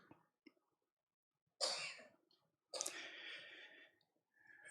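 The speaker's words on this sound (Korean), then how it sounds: "지금 기침들 하시는 거 보니까" Two bursts of coughing echo in a quiet church hall, separated by silence, with a faint breath or throat noise following.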